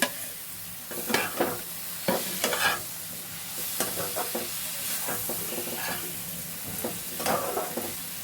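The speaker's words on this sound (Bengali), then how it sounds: "উচ্ছেগুলো এতে ফেলে দিলাম।" Bitter gourd pieces fry in a pan with a soft, continuous sizzle, punctuated by repeated sharp scrapes and clatters of stirring at an irregular pace, close up and with no one talking.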